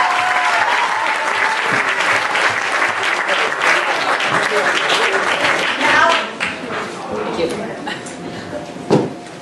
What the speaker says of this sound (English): Clap as Alexander comes to the mic.